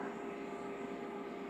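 The airplane carrying Pope Francis arriving in Jakarta, a steady, dense engine roar with a droning tone, constant and moderately loud throughout with no pauses.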